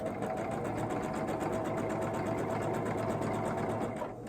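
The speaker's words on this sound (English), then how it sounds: "you're sewing directly on the line" Sewing machine stitching fabric along a marked line for a quilt block, a fast, even mechanical whir running continuously up close before stopping at the end.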